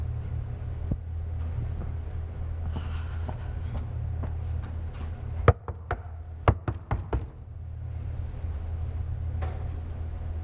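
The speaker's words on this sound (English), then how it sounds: "you knock on the door" Several sharp knocks on a door, irregular and fairly close, ring out over a steady low hum from a stage production of Cinderella. A short cluster of raps sits in the middle, with no talking.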